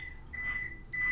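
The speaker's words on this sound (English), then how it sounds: "that's the alarm telling you..." A house alarm warning about a circuit breaker gives thin, steady electronic beeps, two sustained tones separated by a short gap, faint and set against quiet room hum.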